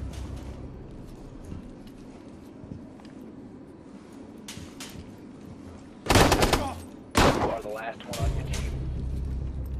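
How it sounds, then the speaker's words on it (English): A flashbang grenade bursts in Rainbow Six Siege gameplay: sharp, loud broadband blasts near the end, one big burst followed by a second, over a low background rumble and muffled game noise. "Popping a flashbang."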